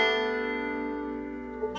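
Banjo sounding the third measure of Worried Man Blues, a bright picked chord ringing out and slowly decaying, with a faint pluck near the end; played alone and fairly quiet.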